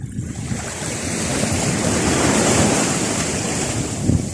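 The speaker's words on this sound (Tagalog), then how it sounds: "Medyo na malakas na po yung alon po natin." Strong sea waves roar and surge continuously, loud and close, with wind buffeting the microphone.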